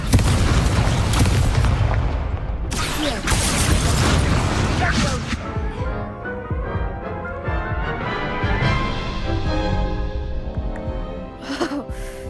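Repeated blasting-spell explosions from Hogwarts Legacy, a magic combat game, boom out as loud broadband bursts in quick succession over game music and clatter, with a final sharp blast near the end.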